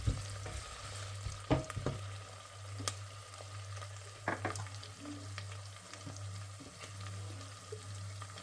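Chopped zucchini and spices frying in a pan, a soft continuous sizzle with occasional stirring clatters and scrapes, fairly quiet and alone.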